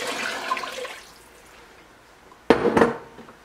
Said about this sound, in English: We'll go ahead and add our water.